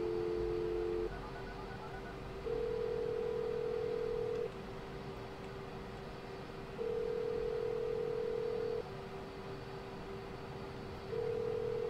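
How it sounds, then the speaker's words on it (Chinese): In the video game OneShot, a phone call rings unanswered: an electronic tone repeats in evenly spaced bursts of about two seconds, separated by a quieter steady tone, fairly faint and with no talking. "让我打电话给他。"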